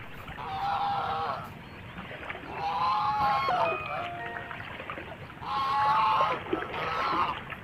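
Ducks honk beside a river at the Bangladesh border in three loud bursts with quieter gaps between them.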